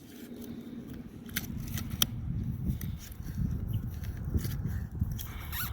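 A tool cuts through the adhesive goop holding the windshield of a Chevrolet Cobalt, giving a rough, rhythmic scraping and sawing with scattered sharp clicks, close and fairly quiet, with no speech.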